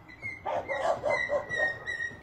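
A mistreated female dog barks and whimpers in a series of short, strained yelps and whines, fairly close and moderately loud, recorded on a phone by a neighbor, with no talk over it.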